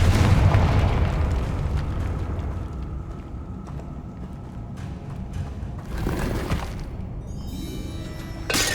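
A Confringo fire spell explodes in Hogwarts Legacy with a loud booming burst that decays into a rumbling tail, followed by further crackling bursts and a rising magical whoosh at the end.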